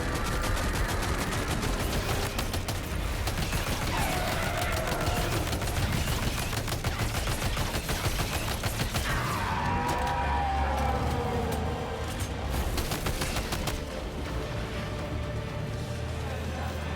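Machine gun fire in Death Stranding 2 rattles in continuous, dense rapid bursts, loud and close, over a constant wash of battle noise with a siren-like wail behind.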